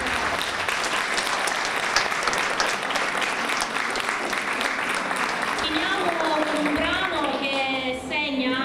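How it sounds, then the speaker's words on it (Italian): An audience at a school awards ceremony claps continuously in a full, even wash of applause; toward the end, voices begin to rise over the clapping. "simbolicamente un applauso per"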